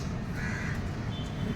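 Crows cawing over steady low background rumble, a couple of harsh calls at moderate distance.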